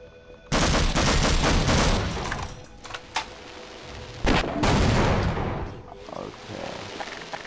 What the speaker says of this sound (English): Man, they shoot the ground in the game.